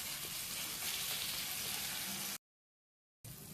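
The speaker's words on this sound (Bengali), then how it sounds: "আচ্ছা করে কষবো যতক্ষণ না তেল ছেড়ে দিলাম।" Onion, tomato and spices sizzling in hot oil while being sautéed for ghugni, a dense, steady frying hiss that cuts out abruptly for a moment, then resumes.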